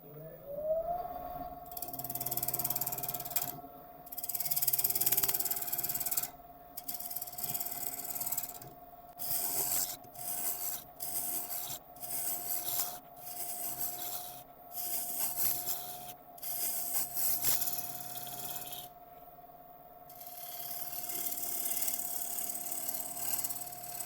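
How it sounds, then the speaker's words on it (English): Sharpening a ball gouge woodturning tool on a running grinder: a steady motor whine holds throughout while repeated rasping grinding passes come and go in short bursts, close and fairly loud, with no talking. "I'm going to sharpen up again because ball gouge needs it"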